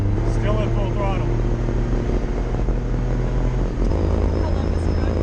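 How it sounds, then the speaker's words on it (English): A diesel-swapped Chevy Luv truck's exhaust drones at full throttle, a steady low rumble with a shift in pitch partway through, while a voice talks over it. "it's a similar exhaust note too as the MG. Still at full throttle."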